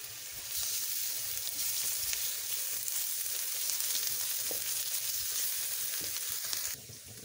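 Garlic ginger paste sizzles with chicken liver on a tawa, a steady bright frying hiss that holds evenly throughout and drops off slightly at the very end, with no talking.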